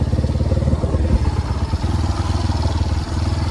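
A motorcycle engine runs steadily at close range on a rural village road, a loud, chugging, rattling idle with an even pulsing rhythm throughout.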